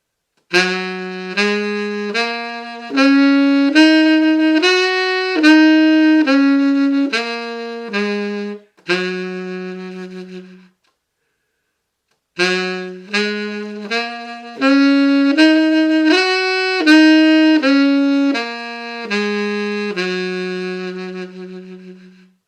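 A saxophone plays two runs of sustained notes, one after another, separated by a brief pause, each phrase ending on a held low tone, loud and alone without any voices.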